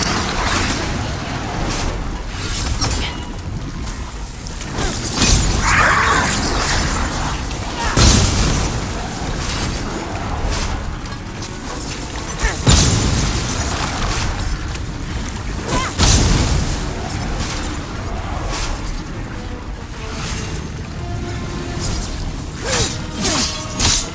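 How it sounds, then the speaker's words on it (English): Fire bombs bursting on shield-bearing hoplites in Demon's Souls Remaster, several loud booming explosions spaced a few seconds apart over a steady low rumble and clanking combat noise. "fire bombs clear these guys out pretty quickly"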